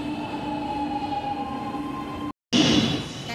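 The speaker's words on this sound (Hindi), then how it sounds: "सो फाइनली मेट्रो आ चुकी है।" A metro train in India arrives at a station with a steady rumbling hum and a sustained tonal whine, then a brief cut and a louder rushing burst as it rolls closer, with no talk over it.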